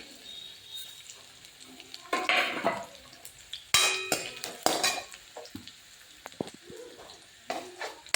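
Kohlrabi greens fry in a pan with black cumin under a soft background sizzle, broken by bursts of spatula scraping and clattering of utensils against the pan that come and go irregularly.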